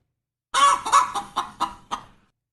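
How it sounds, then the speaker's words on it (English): A chicken clucks in a rapid series of about six loud, close, raspy calls that shorten and trail off, heard alone without talking. "We're going to guess the chicken's mood, okay?"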